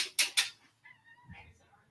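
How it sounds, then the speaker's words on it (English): A house cat gives a short, faint meow after two sharp clicks, heard close but quietly in an otherwise still room. "Well, you can just hear her meow now."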